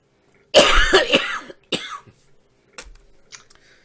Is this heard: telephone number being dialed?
no